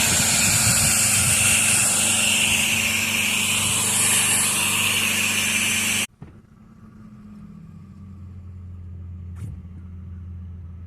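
A pressure washer rinses a stained driveway near a house, a loud, continuous hiss and spray that stops abruptly about halfway, leaving a low motor hum and a faint clank.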